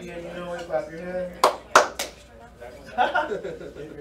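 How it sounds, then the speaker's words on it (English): A small group in a classroom claps hands during a children's song, giving three sharp, close claps in quick succession amid singing and talking voices. "If you're happy and you know it, clap your hand."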